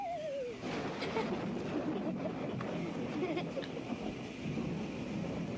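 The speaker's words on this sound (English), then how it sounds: "Oh, boy, rain." Cartoon rain from a 1985 Berenstain Bears Saturday morning show, a steady hiss of falling rain with low rumbles, opening with a brief descending wavering tone and some faint voices underneath.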